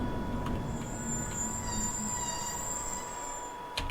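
A Glasgow Subway train in Train Simulator runs steadily, with a constant rumble under a long, high wheel squeal and faint clicks near the end.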